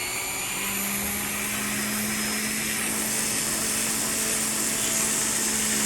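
A rotary wheel shaves the outer edge of a metal bezel during gemstone bezel setting, giving a steady, continuous whirring grind with a low motor hum throughout and no talking.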